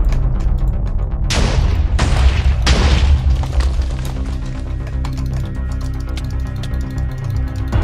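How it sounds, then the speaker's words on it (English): Fireball explosions in the Minecraft game Bed Wars: three loud, heavy booms in quick succession over a dense, noisy game soundscape, followed by a continuing rumble with no voices. "Spam fireballs, yeah, when we get there, just fireball their base."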